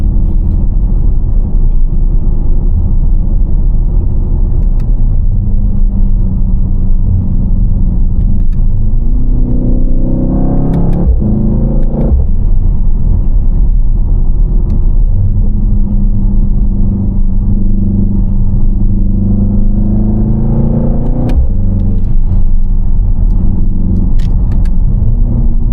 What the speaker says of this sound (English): So this car is actually powered by a 4-liter Biturbo